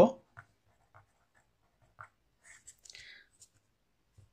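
A pen scratches briefly across paper in short separated strokes while working a class 7 profit-and-loss maths problem, quiet and close, with soft speech between the strokes.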